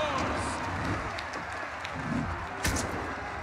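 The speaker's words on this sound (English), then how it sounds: "Round of applause for the team." Audience applause during a live E3 2017 game presentation of Assassin's Creed Origins gladiator arena gameplay, a diffuse crowd of clapping and murmuring that runs throughout with a voice over it.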